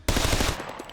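Fully automatic gunfire from a weapon in the video game SCUM: a loud, rapid burst of evenly spaced shots, close up, cutting off into a short decaying tail.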